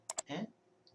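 Two sharp, quick clicks close together from a computer mouse selecting a spreadsheet row, followed by a brief soft rustle; quiet and close.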